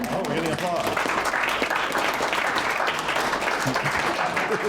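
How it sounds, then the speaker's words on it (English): Audience applause during a healing workshop session, continuous clapping close by with a voice talking over it throughout. "Oh, we're getting applause."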